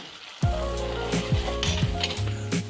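Cold butter dropped into a hot pan of red wine reduction sauce sets off a sudden loud sizzle that crackles and hisses steadily, with occasional scraping stir sounds, close up and without talk.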